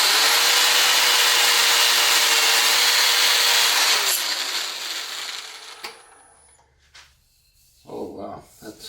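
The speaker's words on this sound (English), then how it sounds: "And the 320 paper. Damn. Turn up my speed of my lathe a little bit." Sandpaper of 320 grit pressed against a wooden bowl spinning on a lathe at about 500 RPM, a steady loud abrasive hiss with a faint motor whine that fades out after about six seconds, followed by quiet handling noise.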